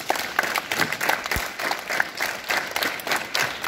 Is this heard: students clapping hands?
yes